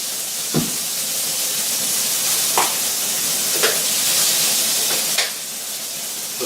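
Pork chops sizzle on a ridged grill pan with a continuous bright hiss. Several sharp crackles and pops punctuate it every second or so, close up and without talk.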